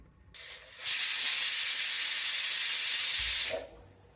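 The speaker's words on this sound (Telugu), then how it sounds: "ఒక విజిల్ వచ్చేసింది కుక్కర్ తీసి పక్కన పెడుతున్నాను" A pressure cooker whistle releasing steam, cooking raw plantain for a snack, gives a loud, steady hiss that swells quickly, holds for close to three seconds and then cuts off, with faint kitchen noise before and after.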